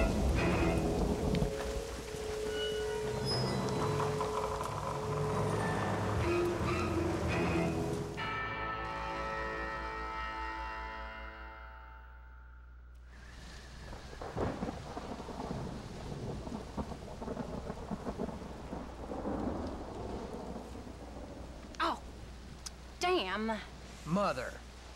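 Thunder rumbles and rain falls on a dark stormy night in Red Dead Redemption Undead Nightmare, with a deep roll of thunder, a pause of swelling tones, then steady rain and sharp cracks while a voice talks over it.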